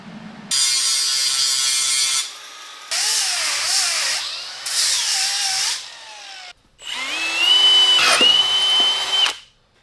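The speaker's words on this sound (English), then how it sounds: "I'm going to drill this for clearance of that M6 set screw" A power drill bores a clearance hole for an M6 set screw in a chopper front-end part, three loud whining bursts with pitch shifts as the bit bites, then a fourth longer run, separated by short pauses.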